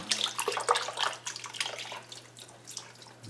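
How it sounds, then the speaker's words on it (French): About three cups of broth pour over a palette roast in a slow cooker, a soft uneven splashing and trickling close by that fades slightly toward the end, without voices. "J'ajoute environ 3 tasses de bouillon, juste assez pour amener au niveau de la viande."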